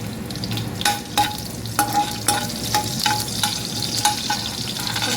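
Green chili stirred into mustard seeds frying in a pan gives a steady sizzle, with about ten crisp spoon scrapes against the pan at an even, unhurried rhythm, close by and with no voices.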